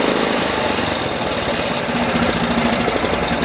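Kohler K series small engine revved up during an ignition timing check, a loud, steady, throbbing mechanical drone with a knocking pulse close to the microphone, running continuously without speech.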